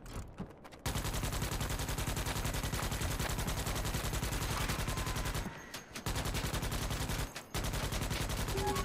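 Rapid gunfire from an inaccurate gun in the video game Starship Troopers: Extermination, sustained loud automatic bursts broken by two short pauses, with no speech over it.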